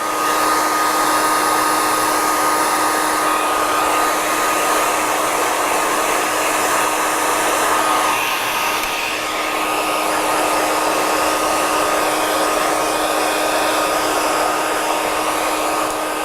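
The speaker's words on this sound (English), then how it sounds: "Notice how I'm moving the dryer around when I get to right underneath of his neck." A hair dryer blows loudly and continuously while drying a man's short beard during grooming, a steady whooshing roar with a faint whine that shifts briefly partway through.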